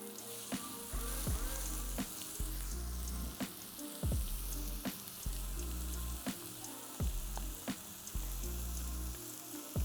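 Burger patties fry in a hot pan with a steady loud sizzle, broken by regular sharp taps and scraping as they are pressed flat, close up with no talking.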